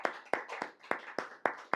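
A congregation claps their hands together during a worship service, giving seven sharp, evenly spaced claps in a steady rhythm, close and crisp with no talking over them.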